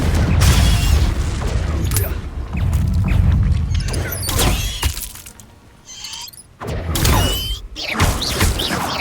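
Protego and Confringo spells in Hogwarts Legacy burst out in dense, loud blasts and shattering crashes during a fight, rapid overlapping impacts with brief lulls, a voice shouting the spell names among them.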